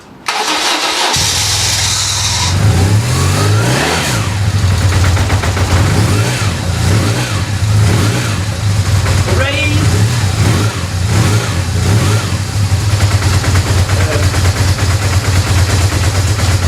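A BMW motorbike engine cranks briefly after months unused in a garage, catches, and settles into a loud, lumpy idle that keeps running steadily; a voice cheers once.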